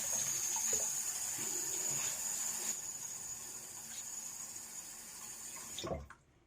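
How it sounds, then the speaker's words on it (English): Water running and gurgling steadily from a sink, a continuous rushing wash that ends with a final soft thump and then quiet. "I'm going to drain the water"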